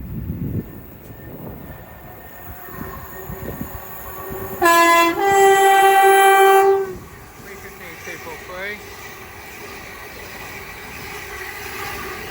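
A train at Watford Junction on the West Coast Main Line sounds a loud two-tone horn for about two seconds over low rail rumble, with voices in the background.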